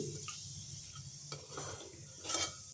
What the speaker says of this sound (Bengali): ফোড়নটা 30 সেকেন্ড মতো ভেজে নিচ্ছি।